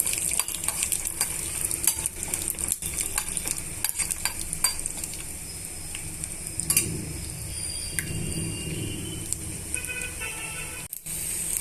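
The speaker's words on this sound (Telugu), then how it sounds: "వేరుశనగ పప్పులు వేసుకొని కొంచెం అటు ఇటు వేగనివ్వాలి" Peanuts fry in hot oil in a pan, a steady sizzle running throughout with intermittent scraping and clinks of a spoon stirring them, and faint traffic noise in the background.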